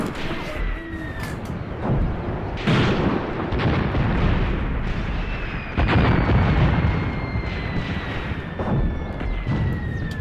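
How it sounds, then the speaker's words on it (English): Heavy artillery booms and explosions roll across a World War II desert battle in a video game, with repeated loud blasts, distant rumbling, and the whine of incoming shells sweeping overhead. "artillery's starting to get awful close"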